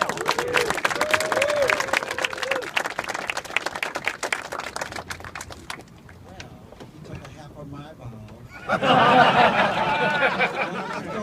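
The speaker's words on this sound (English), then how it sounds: "This deserves a round of applause." Wedding guests clap in a dense, fast patter while a voice speaks over them. The clapping thins out for a moment, then returns in a louder, fuller burst near the end.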